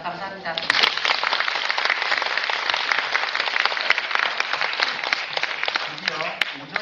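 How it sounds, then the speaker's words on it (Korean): Sustained audience applause at a children's composer showcase concert in a performance hall, steady, dense clapping throughout with no pause, close and fairly loud. "아낌없는 큰 박수 부탁드립니다."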